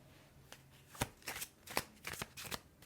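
Tarot cards handled and drawn during a reading, with a series of quick, crisp card snaps and shuffling riffles in an uneven rhythm, close and quiet, with no talking.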